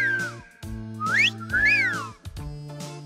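A parrot gives a run of whistles, with rising and falling swoops and sliding tones over steady low notes, fairly loud and close, and no talking.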